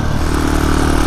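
A Husqvarna motorcycle engine runs loud and close, giving a steady, dense rumble with a strong buzzing tone throughout a brief burst, with no clear rise or fall in pitch.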